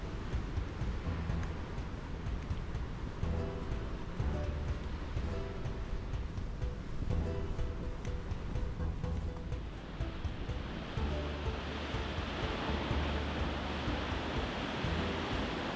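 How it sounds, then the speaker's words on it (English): Continuous roaring surf with king tide waves crashing against rocks and cliffs at Shore Acres State Park, a broad rushing noise that swells toward the end, no voices. "Waves dramatically crash against the rocks and cliffs"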